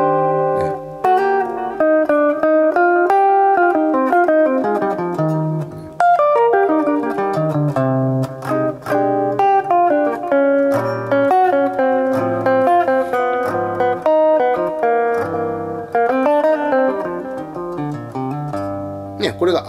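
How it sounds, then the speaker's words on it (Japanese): Guitar played with a red nylon Jazz III pick, a continuous melodic passage of clearly picked single notes and chords, close and fairly loud, producing a mild, rounded tone with no talking over it. "ジャズ3の赤が、ナイロン素材ということもあってかですね、かなりマイルドなサウンドになっているかなと思います"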